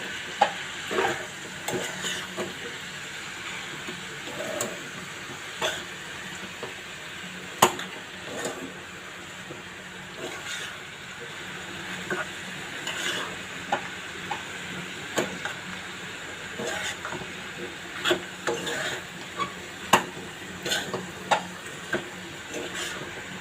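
Food being stirred in a pan: a spatula scrapes and taps at irregular intervals over a continuous low sizzle, close by, with no talking.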